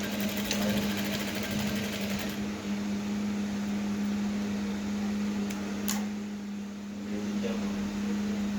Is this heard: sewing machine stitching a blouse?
yes